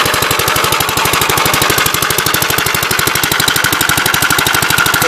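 A 1950s car engine runs just after starting, a loud, close, rapid and steady chugging with a rough, knocking pulse throughout and no voices.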